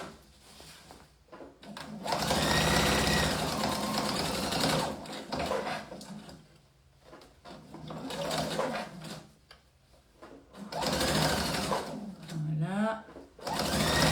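A sewing machine runs in several bursts of rapid stitching while topstitching a backpack, a close whirring hum with pauses between runs and someone speaking French in the gaps.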